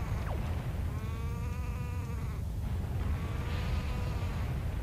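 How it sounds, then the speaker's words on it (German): Sheep bleat in The Legend of Zelda: The Wind Waker HD, with a couple of wavering, nasal calls sounding over a constant buzzing game ambience; no one talks. "Und welches Schaf schnauzt die ganze Zeit hier rum?"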